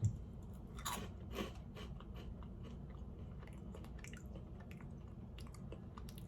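Monster Mash cereal being chewed up close, a few crisp crunches at the start fading into soft, quiet munching over a low background hum.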